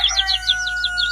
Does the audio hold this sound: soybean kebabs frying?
no